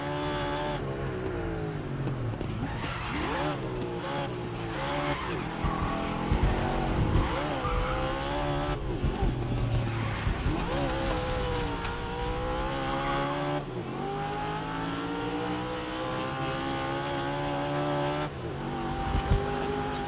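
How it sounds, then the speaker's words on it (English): A race car in the GRID racing game drifts through corners, its engine droning and changing pitch continuously, with rising and falling whines and tire squeal, loud and close throughout. "Drifting along."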